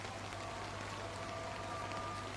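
A rainy evening in the Maldives brings a soft, even patter of rain on surfaces, quiet and steady throughout with no voices, and a faint low hum beneath it.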